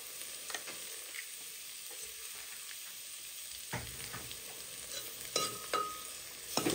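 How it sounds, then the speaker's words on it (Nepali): Mutton stirred in a pan with cumin and coriander powder masala, a spoon scraping and clacking in irregular strokes over a low, steady sizzle, fairly close and moderately quiet. "ल अब मसला मोली चलाइदिएँ मैले हेर्नुस् है"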